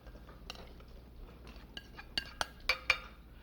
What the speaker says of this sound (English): we want to drain out the marinade vegetables